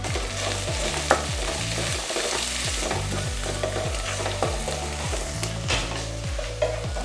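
Mutton pieces being stirred in a pan with turmeric, salt, chili powder, oil and ginger-garlic paste, steady frying sizzle under repeated scraping strokes of a spoon at an even rhythm, close and continuous with no talk.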